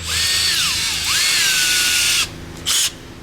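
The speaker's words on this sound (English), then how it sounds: "got a little tiny drill bit here" A small power drill with a tiny bit whines at high pitch, its speed rising and dipping as it bites into a broken metal bolt, then stops; a brief second burst follows.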